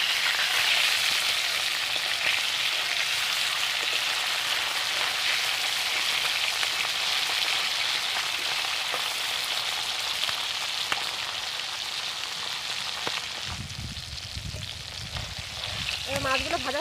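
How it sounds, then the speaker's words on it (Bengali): Hilsa fish frying in hot oil give a dense, steady sizzle like rain on a surface, close and even throughout, with a brief clatter near the end as the pieces are flipped. "এক পিঠ হয়ে গেছে, আমি উল্টে দিচ্ছি মাছগুলো।"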